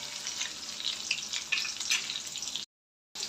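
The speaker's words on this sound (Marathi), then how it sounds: "लसूण छान तळत आला ना की त्याच्यामध्ये जिरी मोहरी ॲड करायची आहे बारीक चिरलेल्या हिरव्या मिरच्या आणि हे मस्त व्यवस्थित आपल्याला तळून घ्यायचं आहे" Garlic, cumin, mustard seeds and finely chopped green chilies fry in hot oil, a soft close sizzle with faint crackles and pops that cuts out briefly near the end.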